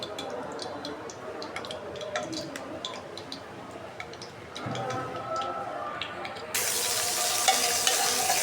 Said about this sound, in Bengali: পেঁয়াজটা একটু ভালোভাবে ভাজা নেই লাল করে